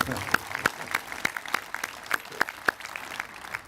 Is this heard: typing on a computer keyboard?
no